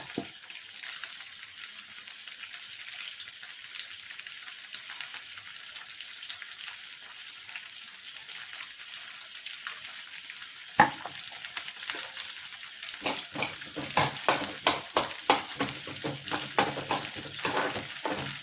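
Chopped onions fry in a pan with a steady, faint sizzle that grows busier and louder toward the end with repeated stirring scrapes, close by and without speech.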